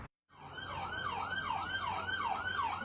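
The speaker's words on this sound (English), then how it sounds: "Police sirens and officers." A police siren wails along Bardstown Road during a street takeover, cycling steadily up and down about once every half second, loud and fairly close, with a low vehicle rumble underneath.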